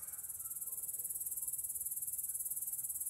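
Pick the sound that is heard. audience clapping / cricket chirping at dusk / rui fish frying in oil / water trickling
cricket chirping at dusk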